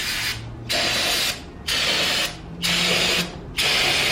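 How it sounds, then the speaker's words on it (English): Aerosol cleaner sprayed onto a B20 engine block before bearing installation: four loud hissing bursts of about a second each, separated by short pauses, close to the can. "I'm gonna go ahead and spray this off right before I put the bearings on"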